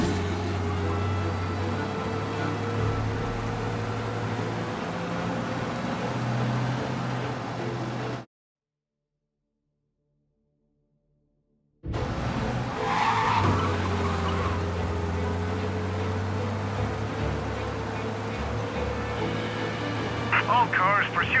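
Car in Mafia: Definitive Edition speeding away from police with tires skidding and squealing over a steady engine drone, broken by a few seconds of silence, with talk over it.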